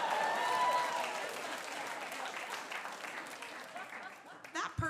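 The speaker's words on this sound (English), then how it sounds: "Give that man a round of applause." A live storytelling show audience applauds loudly, a dense burst of clapping that tapers slightly, with laughter and voices mixed in and a sharp thump near the end.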